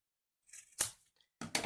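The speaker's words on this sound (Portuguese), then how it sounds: "Vou vir com a minha tesoura e vou cortar" Scissors cutting fabric for a sewn trapezoid zip pouch, a few quick close snips with short pauses between them.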